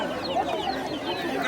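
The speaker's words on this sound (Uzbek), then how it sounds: "Oho, mana bu jo'jalarimiz." Young chicks chirp and cluck in a crowded poultry market, a dense, continuous chatter of many birds close by, fairly faint overall with overlapping high calls.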